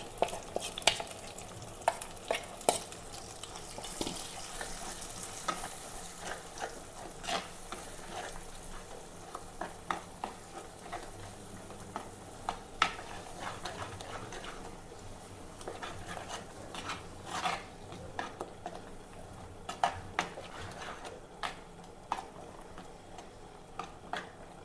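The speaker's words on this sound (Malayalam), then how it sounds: "ഇനി ഇതിലേക്ക് നമുക്ക് അരപ്പങ്ങൾ ഇട്ട് കൊടുക്കാം. അരപ്പ് ഇതിൽ കിടന്നൊന്ന് വാടട്ടെ." Ground spice paste sautés in a pan, with a steady soft sizzle and frequent sharp clicks of a spoon stirring against the pan, close and continuous.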